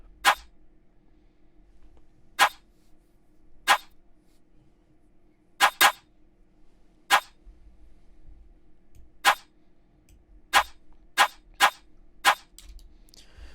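Sharp, bright UK drill snare hits, three snare samples stacked in layers, sound alone at uneven intervals, some in quick pairs, each snappy and layered over a faint low hum.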